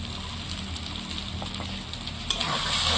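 Cabbage masala sizzles and fries in a pan as cumin and coriander powder go in, giving a steady close crackle with a few sharp stirring scrapes and a brief louder hiss near the end.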